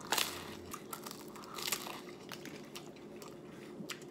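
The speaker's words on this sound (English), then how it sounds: "I got that crunch, nice pressed Cuban bread, the lettuce and the tomato." Crunchy bites into a pressed Cuban bread sandwich with lettuce and tomato, from a Cuban sandwich shop in Seffner, Florida; a few crisp, close crunches come loudest near the start, with softer chewing after.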